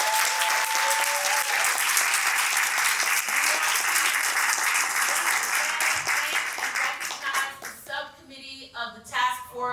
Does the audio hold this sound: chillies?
no